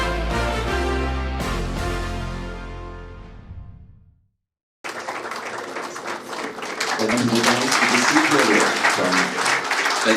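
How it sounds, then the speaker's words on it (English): Audience applause at the 15th Garshom International Awards ceremony as an honoree comes onto the dais; fading music gives way to a short gap, then broad, steady clapping that swells louder and continues to the end. "Let's give a big round of applause to Sri Binoy Sebastian as he comes onto the dais to receive the award from Honorable Governor of Goa."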